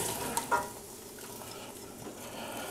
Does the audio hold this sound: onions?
yes